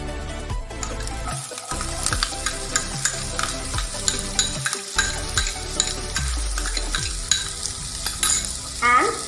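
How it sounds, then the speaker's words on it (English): Chopped onion sizzling in a pan with ginger and garlic that have turned light brown, stirred now and then; a steady close frying hiss with repeated spoon-against-pan scrapes and knocks throughout, no talking. "Once the color of the ginger and garlic turns light brown, add chopped onion to it"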